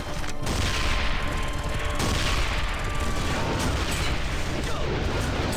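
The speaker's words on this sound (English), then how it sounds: "Where the hell am I getting shot from?" Sniper gunfire in the Armed & Dangerous video game, heard as a dense, continuous barrage of shots and booms that stays loud throughout, with no pause in the combat noise.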